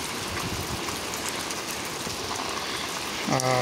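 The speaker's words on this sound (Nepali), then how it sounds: "नेचुरल हिसाबले चाहिँ खसेको पानी हो" Spring water trickles and splashes down from a mountain crevice near the Jhumsa stream outside Butwal, Nepal, a steady close patter that runs unbroken before a short tonal sound cuts in at the end.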